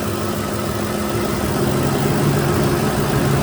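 Ford F250 with the 5.4 engine running, its timing chain faintly rattling under a steady, dense mechanical drone that stays even and continuous from start to finish, close up with no voices.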